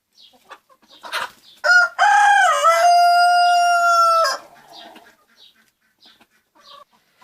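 A large old farmyard rooster crows one loud, drawn-out call close by, with hens clucking softly around it before and after.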